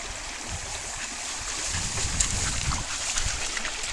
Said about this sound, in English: Willie decides that it's a good idea to play in the creek and not just get a drink